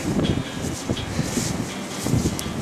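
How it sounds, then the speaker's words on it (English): Wind blows steadily past the microphone outdoors in Minnesota, a continuous rushing noise with gentle gusts swelling and fading. "it's getting windy. Listen to that wind."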